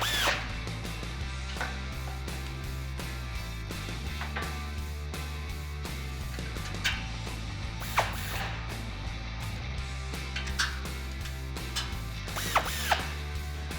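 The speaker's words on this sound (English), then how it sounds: "Now with a 16mm socket and a 16mm wrench, you're gonna tighten these down." Tightening bumper bolts with a 16mm socket ratchet and wrench while fitting a Barricade Extreme HD front bumper on a 2007-2013 Chevrolet Silverado 1500; a steady mechanical clicking and ratcheting runs throughout, with a few sharp metallic ticks near the end.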